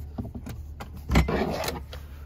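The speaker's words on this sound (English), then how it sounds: "you just press this button, the seat goes down" Power third-row seat folding down in a 2021 GMC Yukon Denali XL: a short electric motor whir with mechanical clicks and a soft thump near the middle, close and fairly quiet inside the cabin.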